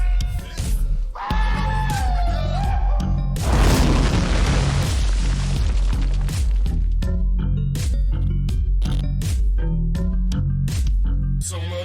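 Booming show sounder intro for a live podcast, with heavy rhythmic thuds and hits, a whooshing burst and layered effects playing loud and continuous throughout.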